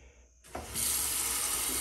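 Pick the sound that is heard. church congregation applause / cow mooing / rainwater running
rainwater running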